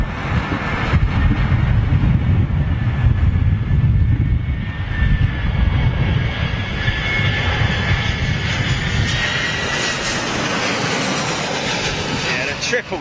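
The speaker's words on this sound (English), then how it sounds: "Kind of a good time to be watching jets landing, really" A jet airliner comes in to land at an airport, a loud, close engine roar with a rising whine that holds for several seconds and then slowly fades.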